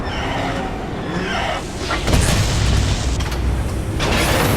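A radome explodes in the Metal Gear video game: a loud, dense rumbling boom swells and sustains with mechanical grinding, heavy and continuous throughout.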